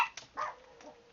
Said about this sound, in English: my dogs like to bark at everything